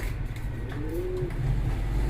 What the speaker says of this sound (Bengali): দেখতে পাচ্ছেন এখানে একজোড়া খুবই সুন্দর চাইনিজ আউল আছে